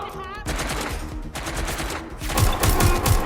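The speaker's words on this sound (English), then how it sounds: "Shooting at us! I'm being suppressed!" Rapid machine-gun bursts and gunshots from the video game Watch Dogs Legion, loud and dense, with heavier repeated shots near the end and a voice briefly heard at the start.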